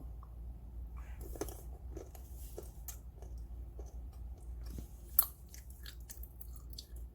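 Someone bites and chews almonds with soft, scattered crunches and a sharper crack near the end, quiet and close in a still room.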